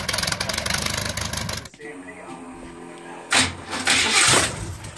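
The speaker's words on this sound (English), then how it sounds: "rig reminds me of a P-51 Mustang when it starts up" A truck engine cranks and catches after a loud stretch of nearby noise, settling into a rough idle before revving up again with a strong burst.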